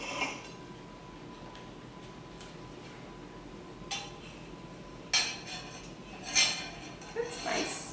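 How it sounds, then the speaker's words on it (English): A finished fruit tart set on a serving dish gives light clinks and taps of crockery, a few faint knocks scattered across quiet room tone, growing busier near the end. "Now that our tart's done, I'm going to place it on my dish."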